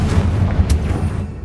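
Confringo fire spell blast in a Hogwarts video game, a loud booming burst with a rumbling low tail that fades over about a second and a half.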